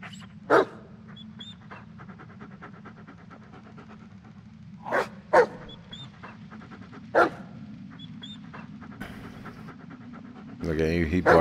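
A pet dog pants in a steady rhythm close by, breaking into a few sharp barks at intervals, with a person talking briefly near the end.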